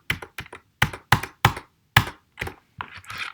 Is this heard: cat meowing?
no